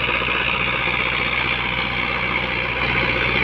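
A Sonalika DI 55 tractor engine runs steadily at a constant idle-like throb, a continuous loud, dense mechanical rumble with no talk over it.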